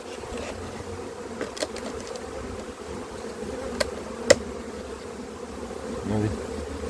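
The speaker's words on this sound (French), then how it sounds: "Toutes ces abeilles." Honey bees buzz in a dense, steady drone while a hive is emptied and moved by a beekeeper, close and continuous, with a few sharp knocks and taps from handling the frames.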